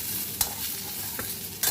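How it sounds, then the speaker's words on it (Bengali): Bitter gourd (karela) fries in a pan under a constant sizzle, broken by three sharp scraping strokes as the pieces are stirred. "করলাটা আমার ভাজা হয়েছে, দেখো পুড়ে যাচ্ছে করলাটা, নেড়ে দিই।"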